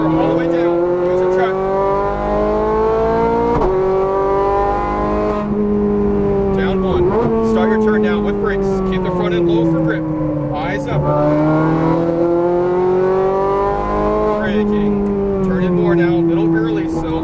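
A Ferrari 430 Scuderia on a Las Vegas track revs repeatedly under throttle, its engine note climbing and dropping through several sweeps with brief shift breaks, loud and close, with a driving instructor's voice over it.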